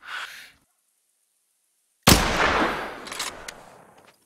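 A rifle fired at an animal during a long-range hunt in the video game theHunter: Call of the Wild: one sudden, loud crack after near silence, trailing into a long rolling echo that fades over about two seconds.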